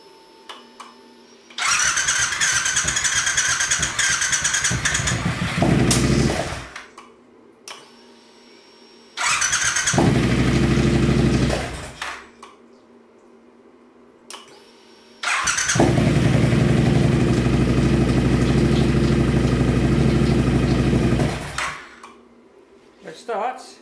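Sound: Triumph Bobber motorcycle engine starting and idling

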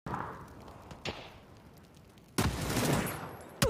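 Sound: grenade and gunfire in a battle royale video game

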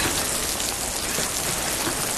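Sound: rain falling outside

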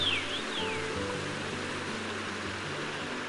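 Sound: gurgling mountain brook

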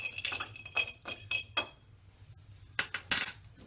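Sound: spoon stirring a whiskey-alternative cocktail in a glass

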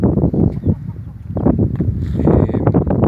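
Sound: young rooster clucking

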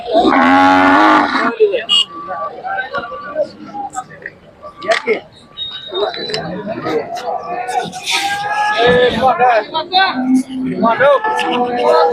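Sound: Khillar cow mooing at cattle market

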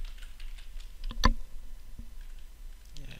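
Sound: typing on a computer keyboard

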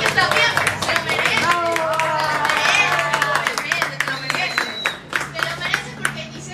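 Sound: people clapping, applause

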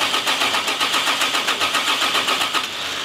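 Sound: Toyota Supra MK4 2JZ engine cranking during compression check

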